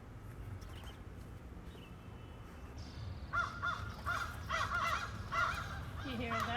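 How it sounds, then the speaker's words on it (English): Crows on an island cawing: a series of harsh, repeated caws in bursts, moderately near, with some quieter sounds before and a person speaking softly in the background. "There's a lot of crows around here."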